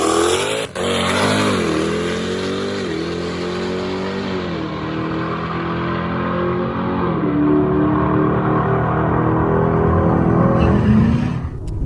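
A 1150-horsepower nitrous-fed Jeep Trackhawk with all-wheel drive launches hard down a drag strip, its engine roaring loud and close while rising through the gears with brief dips at each shift, alone with no talking.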